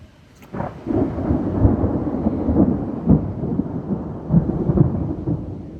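Deep thunder rolls and rumbles for several seconds after a lightning flash, swelling in a few heavier bursts, with rain faintly pattering underneath, heard from a camper van during a flood.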